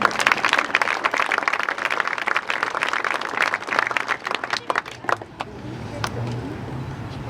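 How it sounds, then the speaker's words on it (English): An audience at a fall sports kick-off claps for the golf team's parent representatives, loud dense applause for about five seconds before it dies down to a quiet room with faint stray sounds. "Please clap for them"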